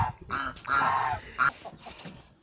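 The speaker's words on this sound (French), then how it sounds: "Un petit peu de grain pour les oies." Geese being fed grain in a garden, giving several short nasal honks and calls in quick succession, close and fairly loud, with no talking.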